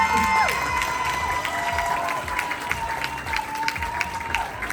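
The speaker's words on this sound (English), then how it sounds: "Give them all a round of applause" An audience at a Pistang Pinoy 2024 pageant night in Auckland applauds steadily and loudly throughout, with a few cheers mixed in and a sustained tonal backdrop beneath the clapping.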